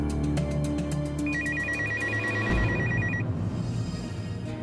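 A telephone rings in a domestic drama scene as a kidnapper calls for ransom, a steady electronic ringtone warbling for a couple of seconds over a busy background score.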